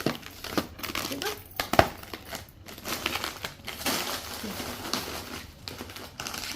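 A plastic bag crinkles and rustles in uneven bursts while packing food and plates for a trip, close by, with faint voices in the background.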